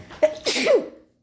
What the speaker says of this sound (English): I'm videotaping and I just sneezed.